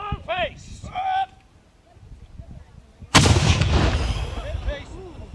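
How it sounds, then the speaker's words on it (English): A 3-pounder cannon fires during a drill, a sudden loud boom that rumbles and decays over the next couple of seconds, preceded by shouted commands. "Artillery. Prepare to fire!"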